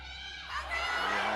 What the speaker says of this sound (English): A huge cheer here.